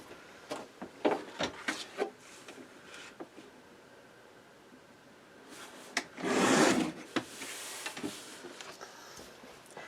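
Cardstock for a mini album being cut down to size on a paper trimmer, heard as soft close taps and shuffling followed by one brief, louder swishing slide of the blade, quiet overall with no talking.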